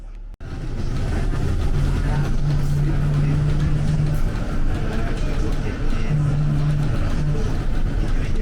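Bus ride on Dar es Salaam's BRT rapid transit system at night, with a steady, loud interior engine and road rumble running throughout and a low tonal drone rising twice.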